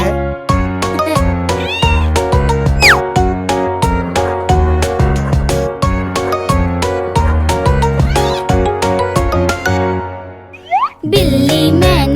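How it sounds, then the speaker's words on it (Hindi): A cartoon cat meows within an Urdu nursery rhyme, brief rising mews popping out over bouncy, loud children's music with a steady beat, one near the start and another pair toward the end. "बिल्ली मैंने पाली है, कान में इसके बाली है।"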